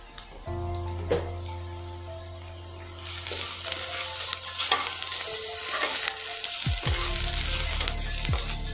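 Sabbakki soppu greens fry in a pan with a steady broadband sizzle, punctuated by occasional scrapes and stirring knocks, loud and close throughout, no talk.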